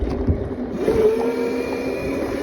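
A motorcycle engine hums steadily while riding, a close, even drone with a faint whine that rises slightly partway through, no voices.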